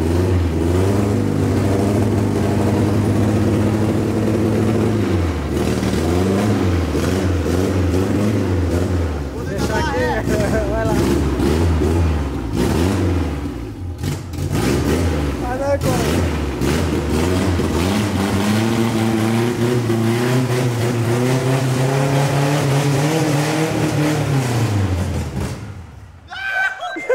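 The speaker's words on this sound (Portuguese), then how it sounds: "Esse carro tá falhando" A Chevrolet Chevette engine idles roughly and revs unevenly, stumbling and misfiring in a loud, close, continuous drone before cutting out near the end, with voices talking over it.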